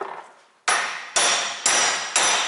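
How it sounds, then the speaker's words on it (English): A hammer strikes a rusted outer U-joint on the left front axle of a 1995 Jeep Cherokee XJ, four loud, sharp metallic blows spaced about half a second apart, each ringing briefly before the next. "Try to hammer that out the rest of the way."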